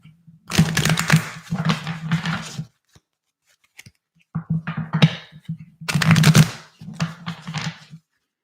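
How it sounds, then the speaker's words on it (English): Cards are shuffled in several rapid riffling bursts with short pauses between them, crisp and close. "I'm going to do a little traditional shuffling with this deck."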